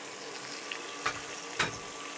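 Fish for Bicol Express frying in a pan, a soft steady sizzle with two short louder bursts of spatter, fairly close and without voices.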